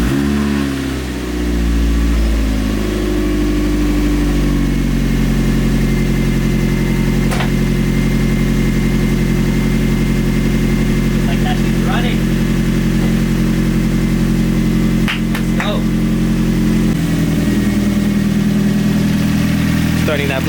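A Mazda Miata engine idles steadily and close by after a timing job, a continuous low hum that holds even throughout, with a couple of brief clicks over it.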